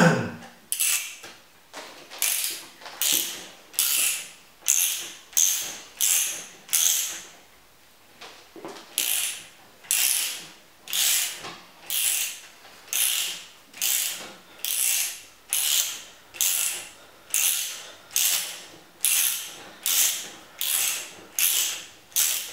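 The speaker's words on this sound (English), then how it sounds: "take our torque wrench and we're going to bring it up to Honda recommended 42 Newton meters." A torque wrench ratchets in steady repeated strokes while tightening a titanium bolt on a Honda toward 42 newton meters, each pull a crisp close clicking burst with brief pauses between.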